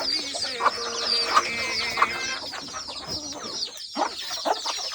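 Free-range poultry hens on a small farm cluck repeatedly in a busy flock, with sharp, close calls rising at irregular intervals over a constant chorus of other birds.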